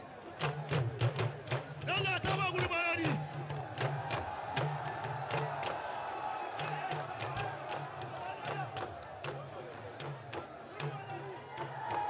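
Crowd at a Dambe boxing fight cheering and shouting steadily throughout, dense and loud, with a rhythmic drum beat and sharp claps or thuds cutting through the roar.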